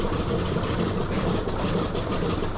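Radial piston engines on a B-29 bomber start up one after another, giving a loud, steady, dense low rumble that stays close and continuous without talk.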